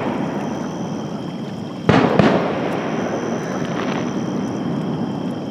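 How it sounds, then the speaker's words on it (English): Fireworks display going off outdoors at night beside fishing spot, a sharp loud double burst with crackling tail over a steady hiss of ambient noise, then fainter distant pops. "Well, the fireworks display has finally begun."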